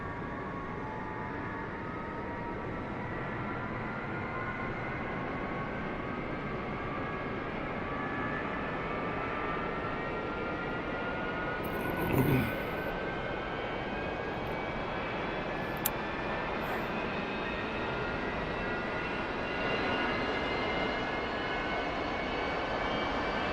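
An A-4E Skyhawk jet engine in DCS World lights off and spools toward idle, giving a steady, loud, continuous turbine roar with a rising whine throughout, with no voices.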